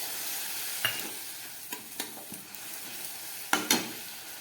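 Taro stolons fry in a pan over low gas with a soft, even sizzle, punctuated by several sharp spatula scrapes and taps against the pan, close and with no talk.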